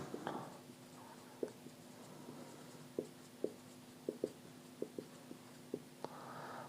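A pen writing by hand on paper during a quiet classroom-style circuit lesson, faint scratching strokes broken by a dozen small sharp taps and clicks spread across the stretch, with no talking.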